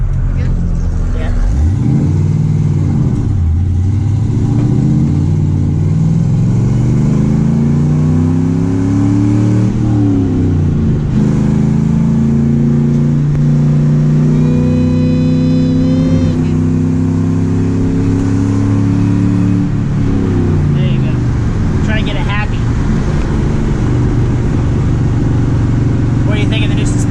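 A car with a reworked front end accelerates and drives through traffic, its engine pitch repeatedly climbing and dropping through gear changes, loud and close from inside the cabin, with people talking over it throughout.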